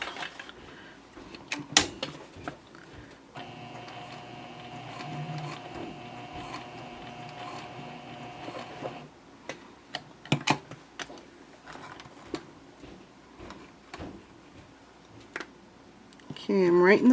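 A sewing machine stitches backpack fabric in a steady mechanical whir for several seconds, then stops, with quiet clicks and handling noises around it, fairly faint and close.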